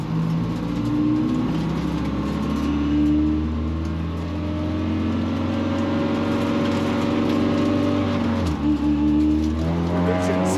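Race cars at a green flag in Woodruff, South Carolina, engines roaring loud and close in a sustained, rising drone, revving up together with a brief dip and surge near the end.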